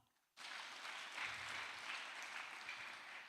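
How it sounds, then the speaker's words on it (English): Sustained, steady applause from a conference audience starts abruptly after a brief quiet moment and holds at an even level, dense and slightly distant. "let's give them a clap"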